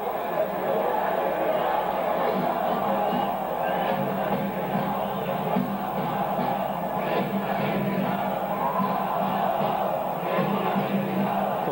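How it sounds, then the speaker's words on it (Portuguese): Penedense football supporters shout and chant together in a stadium during a 2004 match against CSA, a steady, dense roar of many voices that keeps up throughout with some louder swells. "Torcida grita a segunda divisão com o CSA."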